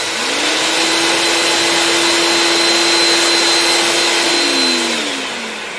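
Two dust extraction motors run together in a workshop, a loud steady roar with a sustained whine that spins up, holds evenly for several seconds, then drops in pitch as the motors wind down.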